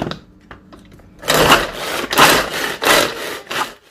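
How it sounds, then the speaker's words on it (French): Food processor chopping onions together with garlic, running in loud bursts of whirring and rattling that follow a quieter opening stretch. "Je continue donc à mixer les oignons. Il faut vraiment que ce soit bien mixé."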